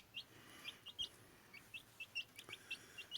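Week-old chicks in a coop give repeated high, thin peeps in quick irregular bursts, close and fairly quiet, with no voices.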